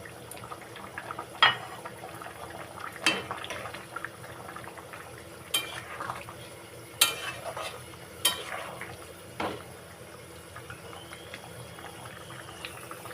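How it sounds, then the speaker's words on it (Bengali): A pot of papaya and potato broth for a pona fish curry simmers and bubbles quietly, with a few sharp clinks of a spoon stirring against the pan. No one speaks. "আলু আর পেঁপের ঝোল ফুটছে"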